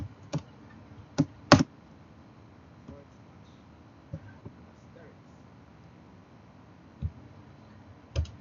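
Scattered keystrokes on a computer keyboard during a C# coding lesson, a few sharp isolated clicks spaced irregularly over a quiet hum, close and fairly soft.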